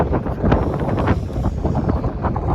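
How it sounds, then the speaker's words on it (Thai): Wind blows across the deck of a ship with a swimming pool, a steady roaring rush with gusty pulses battering the microphone, loud and close, with no other sounds standing out. "ถ้าไม่มีลมนี่จะโอเคเลยนะ แต่นี่มันมีลม"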